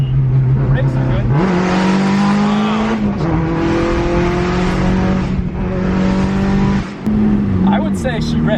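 Loud in-cabin engine roar from a Nissan R32 Skyline under full throttle, rising through several gear changes with brief dips between pulls and voices faintly underneath.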